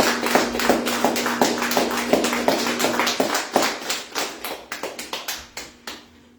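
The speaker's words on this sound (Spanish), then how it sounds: "Vamos a darle un fuerte aplauso al Señor." A church congregation claps together, a series of distinct rhythmic claps that are loud at first and then thin out into scattered, fading hand claps near the end, with a low steady hum under the first half.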